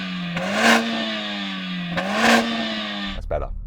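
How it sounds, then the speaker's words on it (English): A Mercedes-AMG A45 S engine is revved twice from idle, each blip rising sharply and falling back to a steady hum, loud and close, before a clattering thump cuts the idle off near the end. "Let's have a listen to the Mercedes, Sam."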